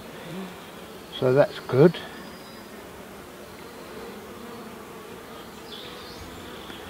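Honey bees hum at their hive in a steady, close, low drone, with a short burst of speech partway through.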